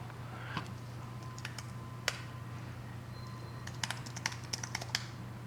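Bursts of typing on a Bluetooth keyboard in a workshop, quick uneven clicks close by with a steady low electrical hum underneath.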